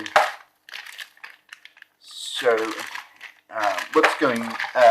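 Pieces for The Resistance board game, including voting cards and markers, are pulled from a container with a sharp plastic crinkle and rustle at the start, followed by a person talking close by.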